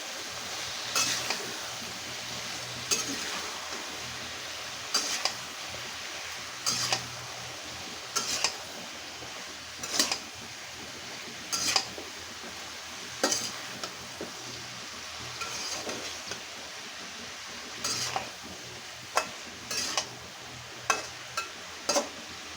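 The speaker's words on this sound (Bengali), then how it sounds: "এখন ভালো করে নেড়ে দেবো।" A spatula repeatedly scrapes and clinks in a pan of pangas fish curry cooked with water lily stems, bursts of clatter recurring every second or two over a faint, steady sizzle.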